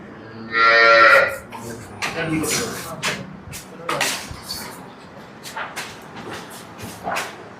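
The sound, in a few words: cows in a shed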